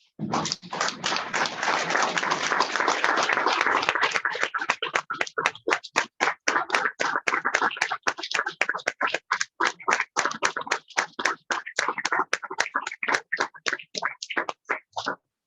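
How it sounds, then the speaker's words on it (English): Audience at a Dothan Rotary Club meeting applauds a family honoring the late Ed Inlow: a dense, loud burst of clapping for about four seconds that thins into scattered, uneven individual claps before stopping. "please join me in applause for this family in recognition of Ed Inlow"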